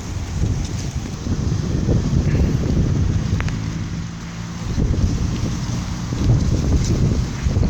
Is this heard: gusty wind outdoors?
yes